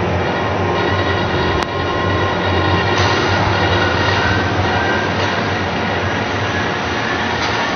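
Steady, loud rumble of a train moving along the tracks in a horror video game, continuous throughout with one sharp click near the start and no talking.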